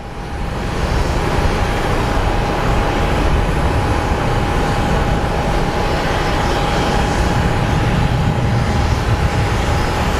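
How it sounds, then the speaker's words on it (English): Boeing 767 taking off from Phoenix Sky Harbor and climbing out, a sustained loud engine roar with a thin steady whine, constant and close throughout, with no one speaking. "And the 767 is airborne."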